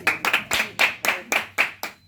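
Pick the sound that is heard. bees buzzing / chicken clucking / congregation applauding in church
congregation applauding in church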